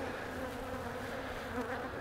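Steady, close buzzing of a small, weak honeybee swarm being settled onto four comb frames in a hive, a continuous droning hum with no voices.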